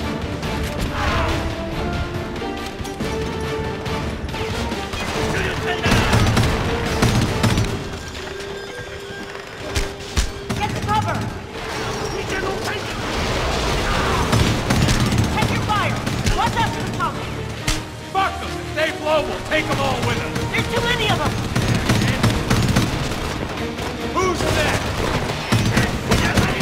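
Sustained bursts of gunfire roar through a Homefront firefight, dense and loud from start to finish, with voices shouting over the din.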